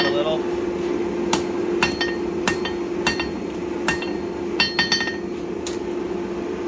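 A hammer strikes forged steel on an anvil while a blacksmith flattens a bottle opener, with a string of sharp metallic rings at irregular intervals over a continuous low hum.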